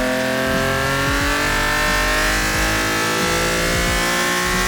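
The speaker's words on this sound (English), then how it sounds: "The car is currently running." A 6-cylinder race car engine runs on a dyno, heard from outside next to the facility's intake and exhaust. It gives a loud, continuous droning hum with steady layered tones and no pauses.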